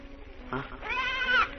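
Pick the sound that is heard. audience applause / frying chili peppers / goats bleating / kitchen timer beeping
goats bleating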